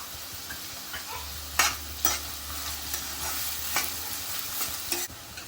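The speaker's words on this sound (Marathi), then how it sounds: "कढीपत्ता घेतलेला आहे मी फ्रेश तो घालायचा आहे आता" Fresh curry leaves dropped into hot oil for kande pohe, frying with a steady soft sizzle and a few sharp crackling pops, with no talking.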